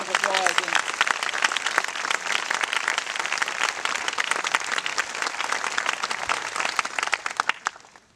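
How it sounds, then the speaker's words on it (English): Sustained applause from an audience at a civic gathering honoring the city parks directors, steady and dense for about eight seconds before fading, with a few voices briefly audible at the start. "Would you please give them a round of applause?"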